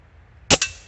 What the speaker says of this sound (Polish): Dobra, to był czwarty strzał.